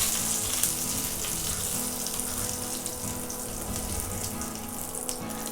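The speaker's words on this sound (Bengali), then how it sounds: "এরপর এখানে শুকনো মরিচ দিয়ে দিব, জিরা, পাঁচফোড়ন দিয়ে দিব, দিয়ে 20 সেকেন্ডের মতো ফোড়ন দিয়ে নিব।" Dried chillies, cumin and panch phoron temper in hot oil for a Bangladeshi butter dal, giving a steady, moderate sizzle and crackle. The frying runs continuously with no talk.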